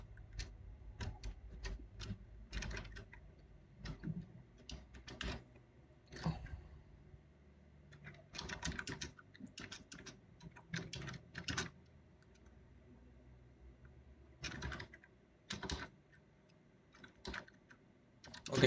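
Basic HTML code being typed on a computer keyboard, with irregular bursts of quick key clicks separated by short pauses, close and fairly quiet, with no talking.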